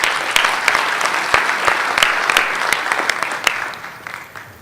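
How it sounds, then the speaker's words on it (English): Audience applause at a tech conference session, a steady wash of clapping with sharp individual claps standing out, filling the room for several seconds before tapering slightly at the end. "Can't believe they're applauding for my question already."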